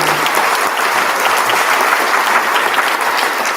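Steady, loud audience applause fills a school auditorium during a National Junior Honor Society induction in Windsor, dense and continuous throughout.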